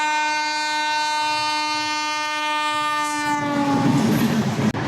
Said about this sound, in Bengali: এই কাঞ্চনকন্যা এক্সপ্রেস পাস করে গেল